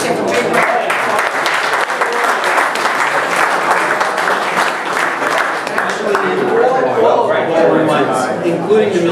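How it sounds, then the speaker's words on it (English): Crowd at a memorial golf outing breaking into steady, loud applause that holds for the full stretch, with some voices mixed in beneath the clapping. "So I'd really like to give a big round of applause."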